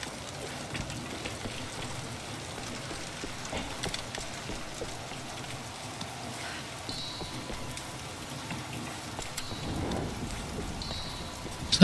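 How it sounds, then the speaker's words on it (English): Soft, steady rain in a Tomb Raider video game patters continuously at low volume, with occasional faint clicks and thuds and no talking. "It's raining out."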